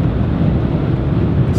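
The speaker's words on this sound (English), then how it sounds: "it's pretty windy out here on the interstate" Steady wind roars against the microphone out on an interstate on a rainy, gloomy day, a loud continuous low rumble with no let-up through the whole stretch.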